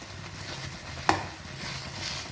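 A spoon stirs cumin powder into mango pachadi sweetened with jaggery, a soft continuous scraping and bubbling in the pan broken by one sharp clink near the middle.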